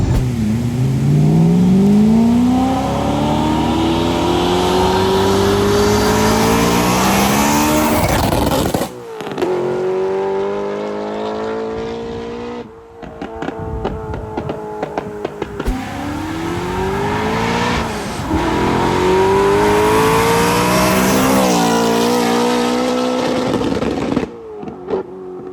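A BMW E90 M3 engine revs hard up to its rev limiter, loud and close, with rising pitched sweeps that hold and stutter at the limiter, dropping briefly between pulls before climbing again.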